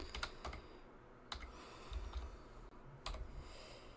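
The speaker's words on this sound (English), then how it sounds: "we're just going to go ahead and type in restroom" A word typed on a computer keyboard, heard as short bursts of quick, light key clicks separated by pauses, close but fairly quiet against a faint background hum, with no voices.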